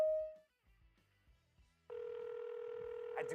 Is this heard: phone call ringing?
yes